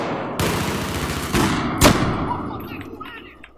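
Three sharp, loud gunshots from a weapon in the video game Battlefield 4, close together and fading into a quieter battlefield background.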